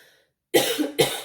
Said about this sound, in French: Excusez-moi, la toux, tout ça.